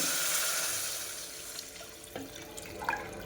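Water poured into a pot for moong dal khichdi, a steady rushing pour that tapers off into softer splashes and drips, fairly faint and without talk.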